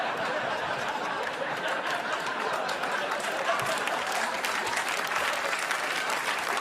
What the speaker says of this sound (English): They burst into applause.